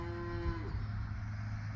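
A cow on a family farm beside an alfalfa field gives a single low moo, close by, over a steady machinery hum.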